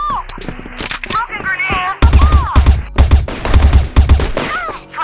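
Rapid video game gunfire bursts from an M4 Knife rifle, loud and close, with heavy low thumps in quick succession, mixed with game effects and a voice talking over it.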